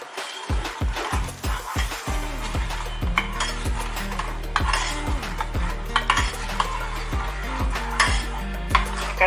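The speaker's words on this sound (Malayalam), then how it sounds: "ഇനി ഈ തിളച്ച വെള്ളം നമുക്കിതിലോട്ട് ഒഴിച്ച് കലക്കിയെടുക്കാം." Spoon stirring boiling water into milk powder and sugar for an eggless pudding, a steady close scraping and clinking against the bowl with repeated knocks, no talking.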